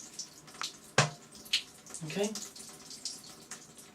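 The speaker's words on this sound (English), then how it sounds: "When you turn the water on, the water will come out looking like so." Water runs from a tap into a basin, a splashing rush with sharp knocks and clatters, while a voice speaks briefly.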